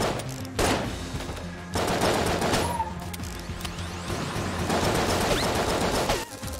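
Loud, close rapid-fire gunfire from Blockner's gun in the video game Enter the Gungeon, with dense automatic bursts in several waves separated by short pauses.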